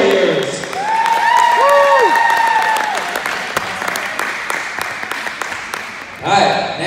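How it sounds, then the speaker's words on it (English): Audience applause for a 2022 Warriors basketball team at an awards event, a broad wash of clapping that swells early, holds steady, then thins out before a short late burst, with an announcer's voice over it. "Let's clap it up for your 2022 Warriors."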